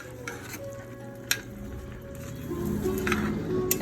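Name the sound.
stirring vegan curry with broth in a pot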